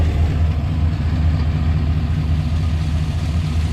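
A swapped engine in a Squarebody K10 truck idles steadily and evenly, a close, loud low rumble with a constant throb and no talk over it.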